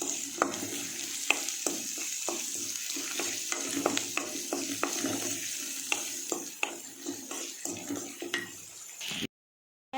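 Shallots sautéing in a pan for roasted brinjal thokku, a continuous close sizzle broken by regular spoon scrapes and taps against the pan, then a brief cut-out at the end.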